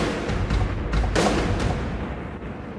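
Drum hits processed through a tube EQ with the low boost switched off, a few booming, broadband strikes in quick succession over a dense, steady backing.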